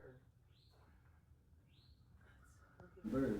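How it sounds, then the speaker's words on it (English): Birds chirp outdoors in a few short, faint rising calls spread across a quiet, steady background, before a louder burst of mixed noise at the end. "just to be around the birds really is a wonderful thing"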